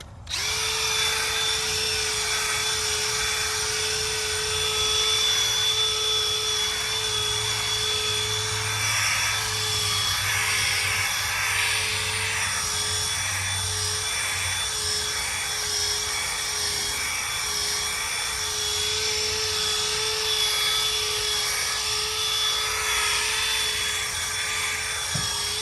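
A machine polisher with a foam polishing pad buffing a car during auto detailing, a loud continuous whining drone with a steady tone and slight shifts in pitch, running unbroken and close throughout with no talk.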